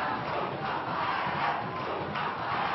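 Organized Santos supporters chant in unison at the Vila Belmiro stadium near the end of a 2011 Campeonato Paulista match, a loud, dense, continuous roar of massed voices filling the stands.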